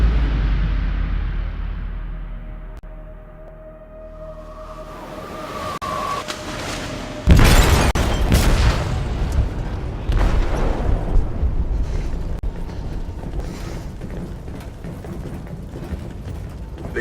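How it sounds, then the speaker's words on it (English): A heavy explosion goes off in a ship's hold in the video game Detroit: Become Human: a sudden loud boom after a quieter mechanical stretch, then a long rumbling, crackling tail of debris and groaning metal. "detonated an explosive in the hold"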